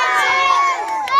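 Schoolchildren at Nagbobtac Elementary School shout together in a loud, sustained chorus of many high voices, rising again toward the end.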